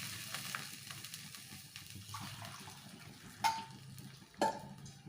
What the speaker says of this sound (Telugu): సేమ్ ఇదే గ్లాస్లో టూ గ్లాస్ వాటర్ యాడ్ చేసుకుంటున్నాం